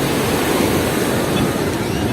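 A somewhat rough sea washes onto Sidi Bishr beach in Alexandria, a constant, loud roar of surf with wind noise and no breaks.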